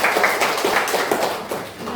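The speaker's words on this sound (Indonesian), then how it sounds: "tepuk tangan untuk kita" Classroom applause for a school counselling (BK) group session: a short burst of many hands clapping close by, fairly loud and dense, fading after about two seconds, with no talk over it.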